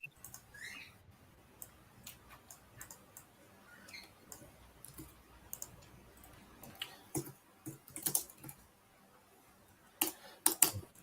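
Scattered key clicks from typing on a computer keyboard during an online policy meeting, irregular and soft at first, then denser bursts of sharper clicks toward the end, with a quiet room hum underneath.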